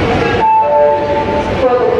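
Fast local train in India, heard as a loud, steady rumble carrying sustained whining tones that shift partway through, with no clear pauses.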